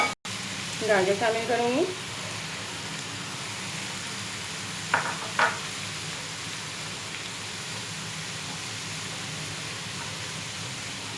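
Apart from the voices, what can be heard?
frying chicken in a pan for macaroni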